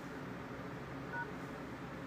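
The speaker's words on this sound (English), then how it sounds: "the code you type in" Telephone keypad tones from a phone dialing a short star-and-pound code, heard as a single faint, brief beep against quiet background hiss.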